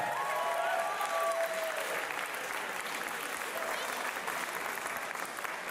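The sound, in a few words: audience applause for the finalists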